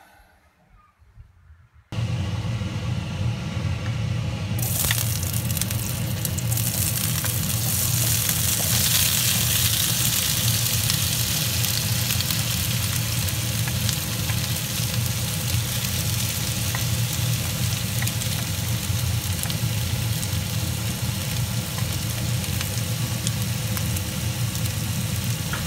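Potatoes and carrots frying in a pan for Japanese curry rice made with S&B Golden Curry mix: a brief quiet moment gives way to a loud, steady, dense sizzle that holds without a break.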